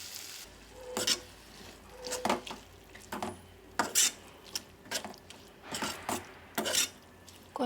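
A spoon stirs gongura leaves into frying prawn curry in a pan, giving a series of irregular scraping and clattering strokes over a soft, steady sizzle, close and moderately loud with no talking.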